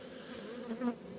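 Honeybees buzz inside a hive box in a steady, close, dense hum with no voices.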